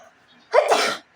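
A single sharp, close sneeze bursts out after a moment of near silence, then stops abruptly.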